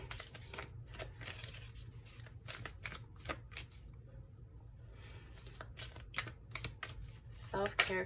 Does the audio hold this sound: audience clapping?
no